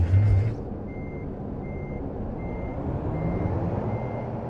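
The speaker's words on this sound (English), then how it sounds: "I'll show them how you're supposed to back a trailer." A truck's reversing alarm beeps steadily at a regular interval while a trailer is backed in American Truck Simulator, under a low engine drone after a brief opening rumble.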